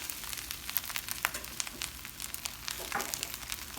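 Eggs sizzle as they fry in a pan beside rice, a steady low crackle with brief brighter spits and scrapes, close and quiet, with no talking.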